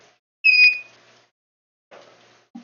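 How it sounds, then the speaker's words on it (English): An aquarium overflow alarm gives one sharp, high electronic beep in a quiet room, followed by a couple of faint, short clicks and taps. "That's my overflow alarm."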